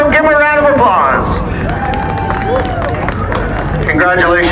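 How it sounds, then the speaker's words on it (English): Crowd at Flamboro Speedway, a vintage modified race night, applauds and cheers a winning driver, steady clapping and hubbub carrying under a loud announcer's voice on the PA. "Give him a round of applause."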